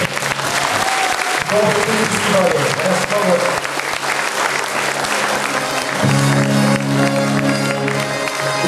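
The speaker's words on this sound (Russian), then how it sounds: "Ваши аплодисменты." Audience at a folk dance festival applauds loudly and steadily after ensemble soloists are announced, a dense wash of clapping with sustained tonal music or voices rising beneath it in the final seconds.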